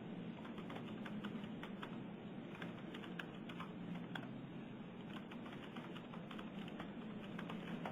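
Faint computer keyboard typing with quick, irregular key clicks running steadily in a quiet room.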